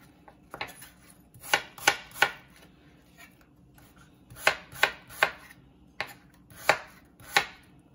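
Knife chopping onion on a board while preparing Vietnamese bánh xèo crepes at home, heard as sharp, close cuts in small clusters of two or three with short pauses between.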